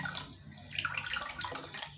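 Water from an opened gate valve trickles steadily into a toilet tank during a leak repair, a continuous close hiss and splash that runs alone for the whole stretch.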